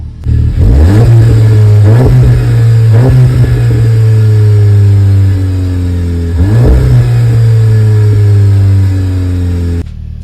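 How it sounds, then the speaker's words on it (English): A 2020 Volkswagen Golf GTI four-cylinder engine revs hard through its Rev 9 exhaust several times, loud and close, each rev climbing then dropping back to a steady idle. "You can hear the 4-cylinder coming through that exhaust."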